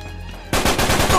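Rapid automatic gunfire erupts in Uncharted 3 after a brief quiet moment, a dense, loud burst of rattling shots continuing to the end.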